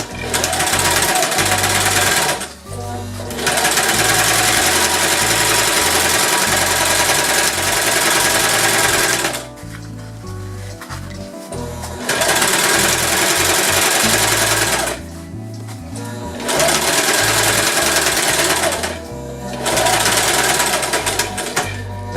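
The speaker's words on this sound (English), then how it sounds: "It may have been when I was sewing the panels together." A sewing machine runs loud and close, stitching sail panels together in long fast bursts separated by brief pauses as the fabric is repositioned.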